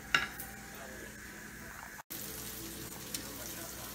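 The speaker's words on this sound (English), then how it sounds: "we're going to nicely golden saute that until it's cooked through with all the flavors of the bacon fat" Onions, herbs and salami sautéing in bacon fat for a French quiche, a quiet, steady sizzle with a few utensil clinks and a brief dropout in the middle.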